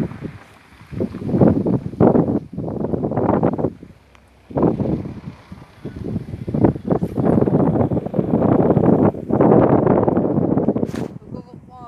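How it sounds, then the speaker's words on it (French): Strong outdoor wind at a carp fishing spot buffets the microphone in loud, roaring gusts that surge and drop throughout, with only brief lulls between blasts. "Donc désolé pour le vent. Mais il y en a vraiment beaucoup."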